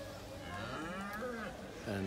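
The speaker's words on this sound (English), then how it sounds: "there's a black cow with a red calf, and that's making its way past us" A cow at the Yorkshire Show agricultural show gives a long, low moo, fairly faint and distant, over a steady background hum of the showground.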